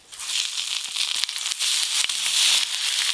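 Fish-roe paturi wrapped in pumpkin leaves frying in a pan, a dense close crackle and spitting of hot oil running continuously for a few seconds.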